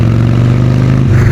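A Harley-Davidson Sportster motorcycle engine runs loud and close, a deep steady throb that swells slightly toward the end.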